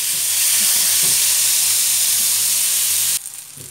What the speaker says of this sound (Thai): ใส่หมูสามชั้นลงไปเจียวค่ะ เราเจียวให้เหลืองเลยนะคะ